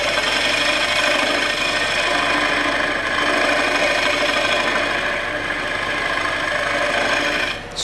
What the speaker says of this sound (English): Scrape with that bottom edge to kind of take a little material off.